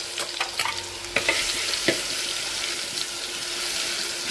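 Garlic sizzling in a hot pan after mustard seeds and cumin, with a few sharp crackles and clinks of a utensil stirring, close and moderately loud, no voices.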